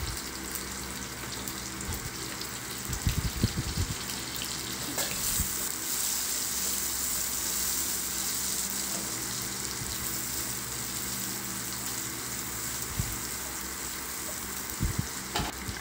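Chopped onions sizzle and fry steadily in a hot pan for pork binagoongan, a continuous crackling hiss with occasional low clunks of the pan and utensil, no talking.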